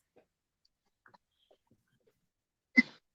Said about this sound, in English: I've been sneezing these last few days